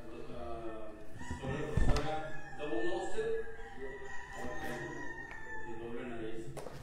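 A rooster crows outdoors amid other fowl, its call rising over nearby talking, with a sharp thump partway through.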